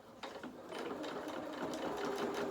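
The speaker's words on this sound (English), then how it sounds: "then sew up to the top point, but just stop just 1/4 of an inch away and reverse" A sewing machine runs in a steady, continuous stitching whir as it sews fabric for a soft toy rabbit, with close, even motor noise and no talk.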